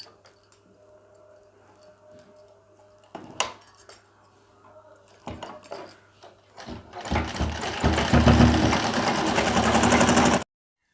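A sewing machine stitches a belt strip of fabric onto a six-panelled petticoat, first a few scattered clicks and handling knocks, then a loud continuous motor whir with rapid needle ticking for the last few seconds, cutting off abruptly.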